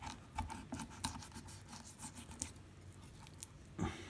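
A knife slicing along the side of a raw chicken thigh near the bone, giving soft, close scraping and rasping strokes in short irregular bursts with a couple of sharper scratches.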